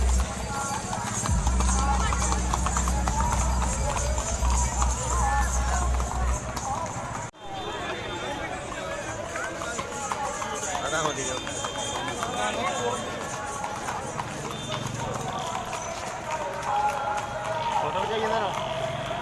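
Horse hooves clip-clop through a Hola Mohalla procession at Sri Anandpur Sahib, a steady trotting rhythm over continuous crowd chatter and talk, with a loud low rumble in the opening seconds.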